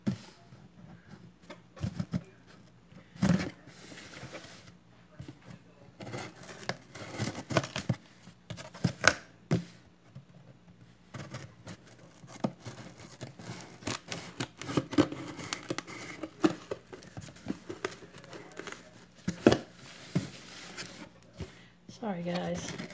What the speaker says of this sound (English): oh, here's my scissors